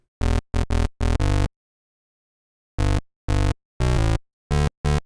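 Massive synth patch with oscillators retriggered in phase on each gate, playing a short rhythmic phrase: a quick burst of five clipped notes, a pause, then five more punchy, harmonically rich notes, loud and alone.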